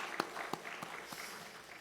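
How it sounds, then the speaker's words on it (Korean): A church congregation claps together during a Sunday worship service, producing several sharp, rhythmic claps over a soft, diffuse room wash, moderately distant and fairly faint. "박수 한번 하겠습니다."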